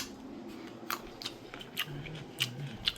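Crunchy Trader Joe's grapes are chewed close up, giving sharp, crisp crunches every half second or so over a low room hum.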